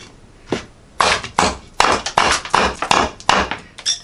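A thin chopper knife strikes oak wood in a series of about ten sharp, loud, irregularly spaced chops, each a hard woody crack that rings briefly before the next blow.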